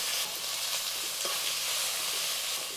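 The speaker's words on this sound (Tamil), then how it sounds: "ஒரு நிமிஷத்துக்கு வந்து இந்த எண்ணெயில் வந்து தக்காளி மசாலா எல்லாம் வதங்கட்டும்." Chopped tomato and ground spice masala frying in oil for a kuzhambu make a loud, even hiss of sizzling, close up, with faint stirring scrapes under it and no voices.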